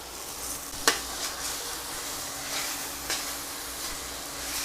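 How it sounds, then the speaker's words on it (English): Vegetables and mushrooms sauté in a pan for a creamy mushroom soup, giving a steady close hiss broken by a few sharp scrapes and clacks as they are stirred constantly. "And saute that for about 5 minutes, constantly stirring."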